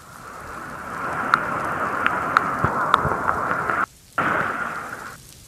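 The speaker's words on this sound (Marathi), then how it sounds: "मात्र पाऊस सतत सुरू आहे" Heavy monsoon rain pours steadily in Ratnagiri, a dense continuous hiss with scattered sharp drop pops, briefly cutting out before resuming.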